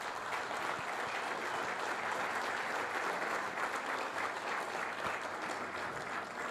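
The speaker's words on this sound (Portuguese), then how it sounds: "Dá uma salva de palmas para o Ferreirinha." Steady applause from the congregation at a men's church service, welcoming a brother invited forward, dense and even throughout with no voices above it.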